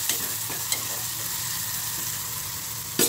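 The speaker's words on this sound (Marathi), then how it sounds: "आता तो कांदा परतून घेते." Chopped onion sautés in a pan with cumin seeds and a pinch of asafoetida, a soft continuous sizzle for about three seconds with a few sharp clinks of a spoon stirring against the pan.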